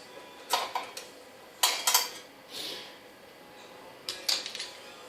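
Light metallic clinks and small rattles come in a few brief bursts as a magnetic pickup tool retrieves a dropped hex key, fairly faint over quiet background.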